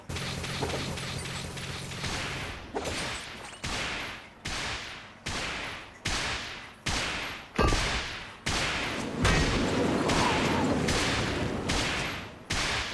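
Rapid bursts of gunfire and explosions while fighting a boss in the mobile game Metal Slug: Awakening, loud repeated volleys chopped into roughly one-second bursts with no speech.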